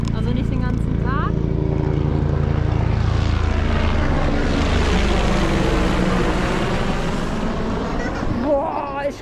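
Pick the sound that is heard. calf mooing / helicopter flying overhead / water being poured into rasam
helicopter flying overhead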